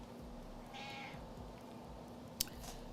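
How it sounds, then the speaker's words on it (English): A cat meows once in a drawn-out, mid-pitched call at a moderate distance, heard over steady low room hum, followed later by a sharp click. "Shout out to the cat."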